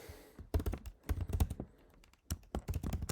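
Quick bursts of key presses clatter on a computer keyboard as code is typed, close and crisp, in several short runs separated by brief pauses.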